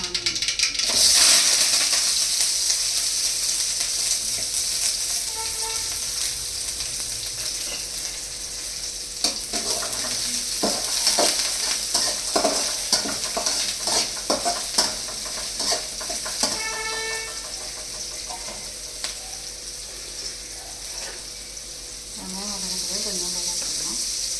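Onions and curry leaves fry in hot oil in a home kitchen for a lunch dish, a constant close sizzle broken by repeated scraping and clattering strokes of a spoon stirring the pan.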